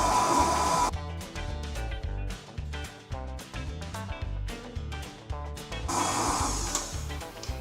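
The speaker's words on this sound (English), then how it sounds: "I'm just going to blend those together, cream them together until they are light and fluffy" An electric hand mixer whirs as it creams butter and caster sugar for a gluten-free Victoria sponge, a close buzzing motor with choppy pulsing and rattling as the beaters work the bowl.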